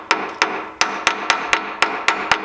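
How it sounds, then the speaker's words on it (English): Light hammer taps on a rocker arm pivot shaft set against a parallel in a workshop: nine or so sharp metallic knocks at a steady, roughly quarter-second rhythm, close and crisp with short ringing decay. "I want to give it a little tap with a hammer"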